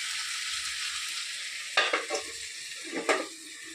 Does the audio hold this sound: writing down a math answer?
no